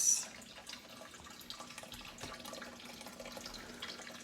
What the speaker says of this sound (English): I bet some of my students can hear some trickling water